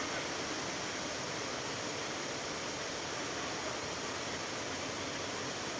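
The Sarika waterfall gives a steady, dense rushing roar of falling water that stays constant throughout, with no voices.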